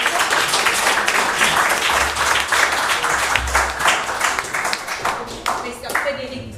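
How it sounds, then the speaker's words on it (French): Audience applause at a thesis prize ceremony of the Institut Georges Pompidou, a lively burst of many hands clapping in a hall, with a voice speaking over it and the clapping thinning out near the end. "on peut encore applaudir Maurice, président"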